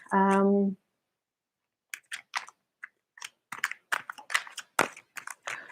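A short harmonic tone opens, then a quick series of soft, crisp clicks and riffles with brief pauses as tarot cards are shuffled close by.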